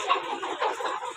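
Chickens clucking softly in a short burst, close and fairly quiet, with no other sounds.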